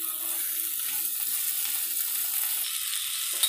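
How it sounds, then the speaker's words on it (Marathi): Okra frying in a pan with turmeric and salt while being mixed and sautéed, giving a steady, even sizzle that holds for the whole stretch with no voices. "याला व्यवस्थित मिक्स करायचं आहे आणि थोडा कलर चेंज होईपर्यंत याला परतून घ्यायचं आहे आपल्याला."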